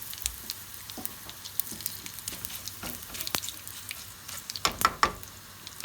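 Spices and turmeric sizzling in hot oil while tempering for baigan bhaja, a steady crackling fry with sharp pops and spits that grow busier near the end, close and moderately loud.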